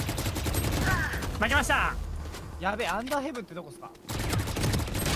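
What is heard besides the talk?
gunfire in the video game VALORANT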